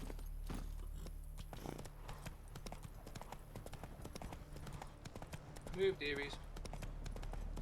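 Roach the horse from The Witcher 3 gallops in a steady clip-clop of hooves, with a brief vocal burst and voices talking over the game sounds partway through.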